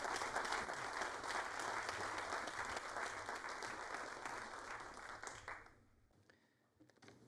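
Audience applause welcoming the associate director of a university imagination research center onto the stage, a dense sustained round of clapping that fades out near the end, leaving near silence.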